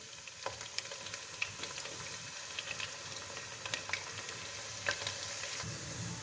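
Two sliced onions frying in half a cup of cooking oil, producing a soft, continuous sizzle with scattered sharp pops and crackles at close range, no voices.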